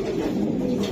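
A female racing pigeon coos close by in a continuous, low, throaty murmur that fills the whole moment without pause.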